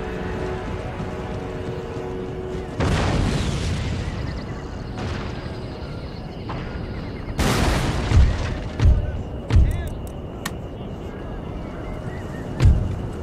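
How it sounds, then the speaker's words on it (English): Gunfire and cannon booms in an Empire: Total War battle, with a rumbling wash of volleys followed by several sharp, loud thumps spaced a second or so apart over a continuous battlefield din. "These guys are getting shot at."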